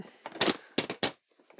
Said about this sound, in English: Okay, we'll crinkle at the same time.